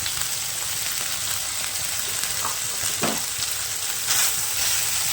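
Spice masala of turmeric, cumin, coriander and chilli powders frying in a pan for a prawn chop, a steady close sizzle with a few soft stirring scrapes and a brief louder burst near the end, no talk.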